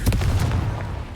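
The Confringo blasting spell goes off in a wizard video game as a short, booming burst with a dense low rumble and a quick sharp crack, loud and close, fading over about a second.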